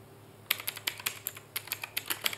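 Quick keystrokes on a computer keyboard start after a short pause and run as a brisk, uneven string of close, crisp clicks, with no one talking.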